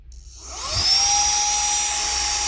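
A REIKIYA HV-C11 cordless handheld mini vacuum cleaner on level 1 starts up and settles into a steady, close high-pitched whine with a constant tonal hum, running alone without talk.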